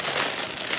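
Plastic packaging crinkles and crackles as it is handled up close, a brief, dense rustle with no voices.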